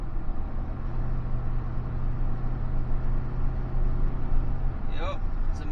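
A 2005 Ford F150 pickup with its ignition timing adjusted downshifts and accelerates on a road test, heard from inside as a steady, loud engine roar with a brief shift near the end.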